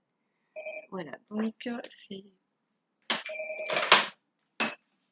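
A telephone rings in an indoor room, its electronic tone sounding in two bursts that overlap a woman's speech, moderately close.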